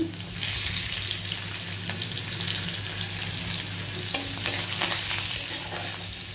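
Chopped garlic and red chilli fry in hot oil with a close, steady sizzle, broken by short scraping bursts from stirring in the pan, no voices over it.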